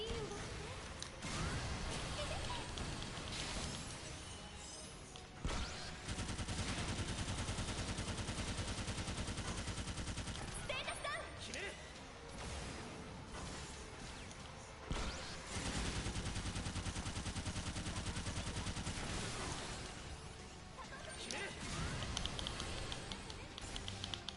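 Minigun fire in Sword Art Online Fatal Bullet during boss farming, long dense bursts of rapid gunfire separated by brief pauses, loud and close, with game effects mixed in.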